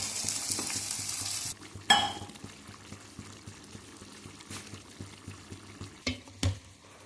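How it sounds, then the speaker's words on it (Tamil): Chicken pieces with onion and curry leaves sautéing in a pan for a village-style kulambu, a steady sizzle broken by stirring scrapes and a few louder clatters, close and without talk. "வெங்காயம் சேர்த்து கருவேப்பிலை சேர்த்து நல்லா வதக்கிட்டு கறியை போட்டு நல்லா பொன்னிறமாக வதக்கிட்டு"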